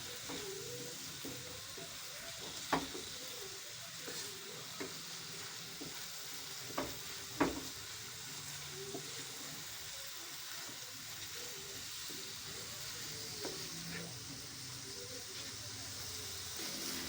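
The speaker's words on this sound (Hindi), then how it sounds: "इसको मसाले में हम थोड़ी देर के लिए इसको भी भून लेते हैं" Moong dal fries and sizzles steadily in spices in a pan, a soft constant hiss with a few sharp scrapes of stirring, heard alone at a low level.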